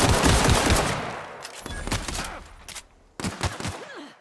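Gunfire from The Outer Worlds video game: a dense burst of rapid shots at first, then scattered single cracks and short volleys with brief pauses between them, loud and close.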